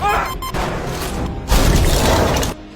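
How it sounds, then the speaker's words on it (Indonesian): An oxygen tank explodes inside a depressurizing cabin in the film The Martian: a loud burst of crashing, rumbling noise, a brief lull, then a second heavier boom that cuts off abruptly. "Di kabin kehilangan tekanan udara, menyebabkan tangki oksigen meledak"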